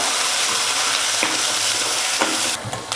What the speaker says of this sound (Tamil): கொஞ்ச நேரம் அந்த எண்ணெயில் வதக்கினா போதும்